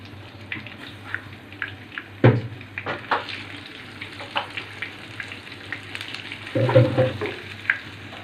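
Crispy fish fries in a pan with a steady sizzling hiss, broken by occasional louder spits and light clatters close by.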